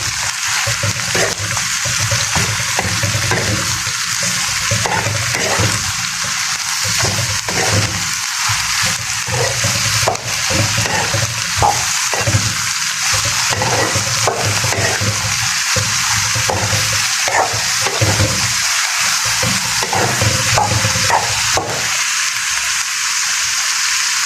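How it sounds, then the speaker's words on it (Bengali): Chopped chili and garlic fry loudly with cauliflower and potato in a pan, giving a dense continuous sizzle and spatter with repeated stirring scrapes close by throughout. "এখন দিয়ে দিব আমার মরিচ কুচি, রসুন কুচি, সব একসাথে দিয়ে ভেজে নেব।"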